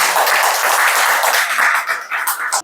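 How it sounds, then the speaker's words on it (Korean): An audience at a policy forum on low birth rates claps in welcome for a university professor giving the keynote lecture, a dense, steady burst of applause lasting a few seconds before it abruptly stops. "오늘 주제 강연을 맡아주신 강원대학교 이현훈 교수님을 큰 박수로 맞이해주시면 정말"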